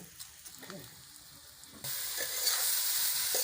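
Potato bhaji with drumstick leaves and spices being stirred in a pan, first soft scraping and clinks, then a sudden loud, steady sizzle of frying that continues close up.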